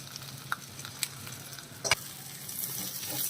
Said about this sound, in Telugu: ఇదిగోండి, ఇలా ఫ్రై అవ్వాలండి